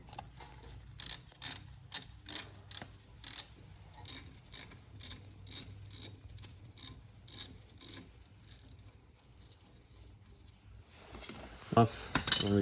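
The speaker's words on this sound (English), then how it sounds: "I'm just gonna try to get these off with the breaker bar." Breaker bar loosening bolts on a Nissan Altima front hub, giving a run of sharp ratcheting clicks in bursts that grow sparse midway, then quiet, and a louder clatter of metal near the end.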